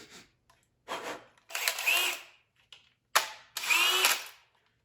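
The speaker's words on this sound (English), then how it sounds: "I've never had that happen while drilling a hole in my life." A power drill bores a hole during work on a homemade gasoline recycling machine, in short bursts of whirring with brief stops between them, two longer straining runs rising in pitch, heard up close with no talk.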